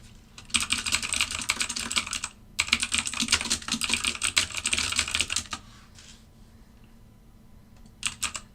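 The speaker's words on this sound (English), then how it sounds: "Sorry for my typing. I know it's really loud." Rapid, dense clatter of keys on a computer keyboard in two long bursts, close by, then a pause and a short final flurry.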